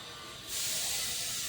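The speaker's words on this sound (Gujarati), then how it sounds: "કુકરમાં સીટીઓ પડે છે" A pressure cooker whistle bursts into a loud, steady hiss of escaping steam partway through, continuing unbroken to the end, close and alone.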